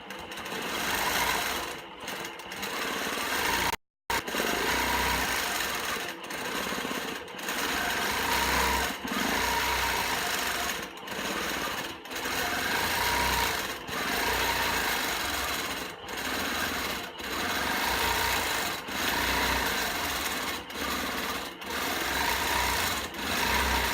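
A sewing machine does free-motion quilting of feather patterns, its needle running in a steady, loud, continuous whir. Brief dips and one short stop break the run, and no voices are heard.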